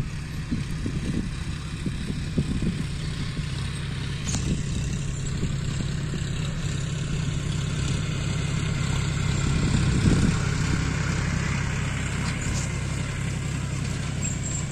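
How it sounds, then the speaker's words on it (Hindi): A 50 HP John Deere 5050 tractor fitted with a laser land leveler runs smoothly with a steady, low, throbbing engine drone that holds for the whole stretch, with small shifts in load and no talk. "अभी तो, आराम से खूब खुल के चल रहा है ट्रैक्टर।"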